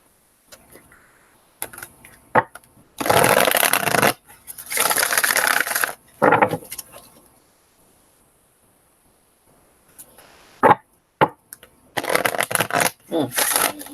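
Cards are shuffled in bursts of riffling and flapping, close and loud, separated by quiet pauses and a few soft taps.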